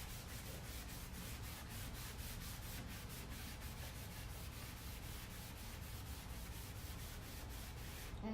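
Wax is rubbed by hand onto faux driftwood in quick, regular back-and-forth strokes, a soft, close scrubbing swish repeating steadily throughout.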